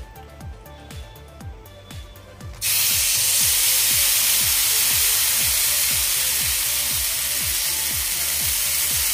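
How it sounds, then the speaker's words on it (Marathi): Rajgira flour chila batter hits an oiled hot griddle and sizzles in a sudden loud, steady hiss that holds to the end, after a few quiet rhythmic ticks at the start. "आता आपण यावर तव्यावर बॅटर घालून घेऊयात"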